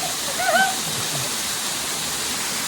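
A waterfall roars as a steady, dense rush of water from close by, with a faint voice briefly audible over it near the start.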